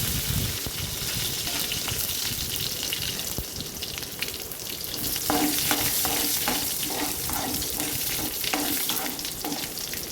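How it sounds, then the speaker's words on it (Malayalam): Shallots and dried red chillies sizzle in hot oil with mustard seeds in a Kerala-style pan for a raw banana thoran, a steady close frying hiss with scattered crackles and occasional stirring scrapes throughout, no voices. "ഒരു ചീനച്ചട്ടിയിൽ എണ്ണ ചൂടായി കടുകിട്ട് അതിലേക്ക് അരിഞ്ഞു വെച്ച ചെറിയ ഉള്ളി വറ്റൽമുളക് ചേർത്ത് ചെറുതായിട്ടൊന്ന് മൂപ്പിച്ചെടുക്കുക"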